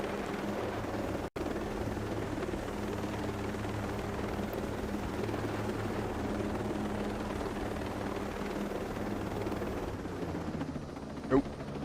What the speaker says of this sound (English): Just flying helicopters under bridges.